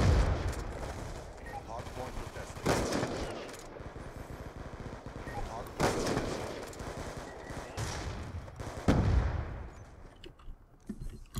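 Gunfire from a player's gun in a multiplayer shooter video game: repeated loud bursts of shots spaced a few seconds apart, with quieter game noise and occasional talking in between.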